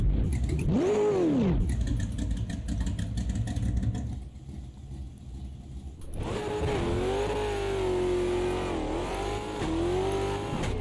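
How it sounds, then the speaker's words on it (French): A Ford Shelby GT500 V8 revs and pulls hard at Caldwell Park in Automobilista 2, loud and close, its pitch rising and falling through gear changes in a continuous engine roar. "nouvelle voiture, la Ford Shelby GT500 sur Caldwell Park"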